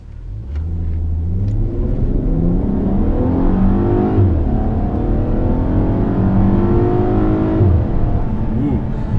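A 2018 VW Passat GT engine pulls hard through a series of turns, a steady, loud, close-up drone with rising and falling harmonic sweeps as revs climb and shift, lasting throughout.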